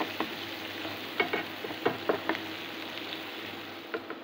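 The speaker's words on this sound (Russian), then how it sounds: "Для соуса порезала мелко лук, кладу его на сковороду и обжариваю." Onion, finely chopped for a sauce, frying in a pan: a steady sizzle with scattered crackles and light stirring taps, close up, no voices.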